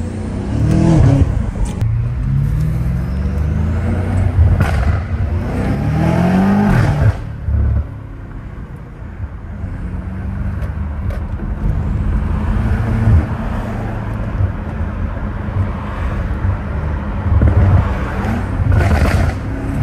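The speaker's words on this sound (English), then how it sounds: "It sounds so crazy when it spools up like that." A catless BMW M5 Competition revs hard on a street between walls, several loud rising pulls with whooshing spool and crackle, then a steadier rumbling stretch before more blips, close and with no talking.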